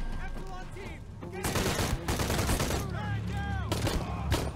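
Rapid gunfire bursts from the video game Shadow of the Tomb Raider, loud dense volleys crackling over game music and voice lines, with a player talking at moments.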